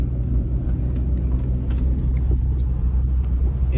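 A car without four-wheel drive engaged, stuck in desert sand at Wadi Qudayd, gives a loud, steady engine roar and low rumble that continues throughout.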